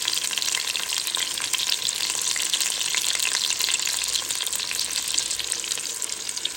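Goat meat with garlic, tomato and salt frying in a pan, a dense, steady sizzle with crackling and stirring, close and loud with no talk.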